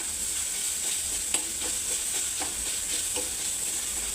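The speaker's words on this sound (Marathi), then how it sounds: "हे पेरूचा किस आपण ह्यामध्ये टाकला तो छानपैकी आपल्याला परतून घ्यायचा आहे" Finely grated guava sautéing in a pan for modak filling gives a steady, soft sizzle with intermittent spatula taps and scrapes, close and fairly even throughout.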